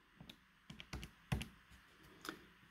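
A calculator keypad is tapped to enter numbers, giving a handful of quiet, irregular plastic clicks spaced apart, close but faint, with no voices.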